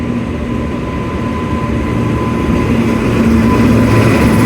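A WAP 7 electric locomotive hauling the Farakka Express passes close by, a steady loud rumble of wheels and rail noise that builds slightly toward the end, with no voices.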